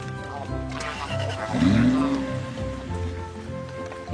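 Steady cartoon rain patters over a farm scene, mixed with a nearby vehicle engine revving upward in pitch midway.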